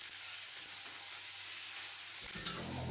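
Basil leaves stir-fried briefly into spaghetti with dried chili in a hot pan, giving a steady broadband sizzle with light stirring scrapes throughout, a sharper clatter near the end, no voices.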